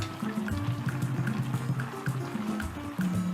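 Garden egg and mushroom pieces go into a pot of okra and mixed vegetable soup, giving soft wet plops and liquid bubbling with light tapping, close and fairly quiet.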